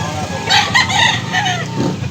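A rooster crows loudly and close by in Mantalungon, one drawn-out call with a few rising and falling pulses, standing alone without talk.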